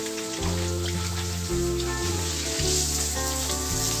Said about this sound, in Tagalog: Umaambon na naman yata